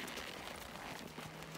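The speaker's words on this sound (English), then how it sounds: "I'm riding Marvin on a horse trail ride" Horse hooves clip-clop along a mountain trail in the Colorado Rocky Mountains during a trail ride, a faint, steady run of soft hoof thuds under breezy outdoor noise.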